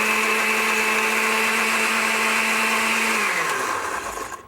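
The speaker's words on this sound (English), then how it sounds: "let me just blend this up. Okay. Let's do it on low to start." A blender running on low whirs steadily as it blends a vinegar and lemon juice dressing, a loud close motor drone that winds down and cuts off near the end.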